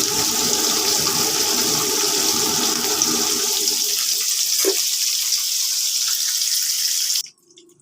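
Pieces of paneer fry in white oil for navratan korma, giving a steady, loud sizzling hiss that runs unbroken for about seven seconds before cutting off abruptly.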